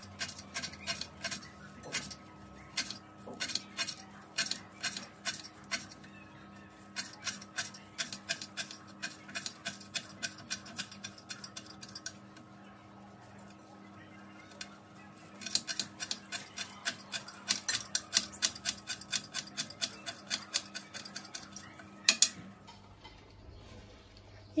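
A knife chops parsley, dill and mint for sarma filling: quick, crisp, evenly spaced taps on a board in long runs, broken by brief pauses, fairly quiet and close.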